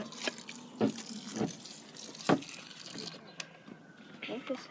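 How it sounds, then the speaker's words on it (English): Water poured onto clay for a mason bee house, heard as uneven splashing and dripping under the talk of nearby voices. "Now we're just gonna add the water to get it wet and sticky."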